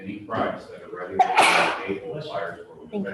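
A single sharp sneeze bursts out mid-sentence during a real-estate pricing talk, loud and close, with a voice speaking before and after it.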